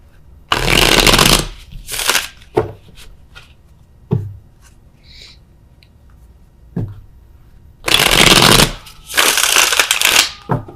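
Tarot cards being shuffled close up in several loud riffling bursts separated by quiet pauses and a few single taps as the deck is handled.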